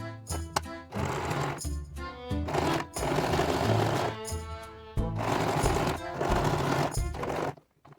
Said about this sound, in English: we're going to take this to the sewing machine and sew all around the edge to put this piece on